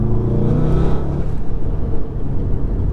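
A stage 2 tuned, turbocharged 2016 VW Golf R roars under hard acceleration in a lower gear, a deep steady rumble with rising whir, loud and close throughout with no talking.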